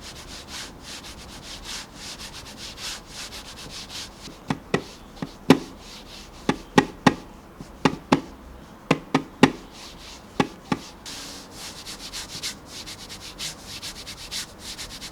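Computer mouse dragged across a Zowie G-SR-SE Rouge II cloth mouse pad, a soft continuous rubbing hiss broken by a cluster of sharp taps and scrapes in the middle, close and fairly quiet with no talking.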